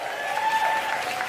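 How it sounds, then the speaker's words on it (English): Audience applause at a Dave Chappelle stand-up comedy show: a dense, steady wash of many hands clapping together, loud and sustained throughout, with no one speaking over it. "My round of applause."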